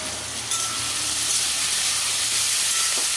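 Onion, tomato, green and dried chillies frying with a little salt in a pan give a steady, close, dense sizzle and hiss that swells slightly after the first half second and holds throughout.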